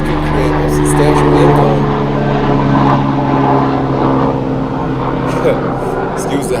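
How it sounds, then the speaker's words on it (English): Helicopters flying overhead, a steady loud rotor and engine drone filling the whole stretch, with talk mixed in over it. "Excuse the helicopters."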